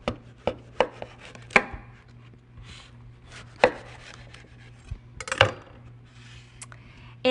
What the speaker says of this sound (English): So I'm just going to cut it into quarters like this.